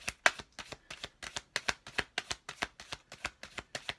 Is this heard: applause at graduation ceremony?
no